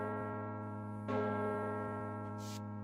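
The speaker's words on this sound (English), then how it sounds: "You guys can hear the bell go off." A bell rings with a sustained, shimmering tone and is struck again about a second in; the ringing stays fairly faint and steady, with no talking.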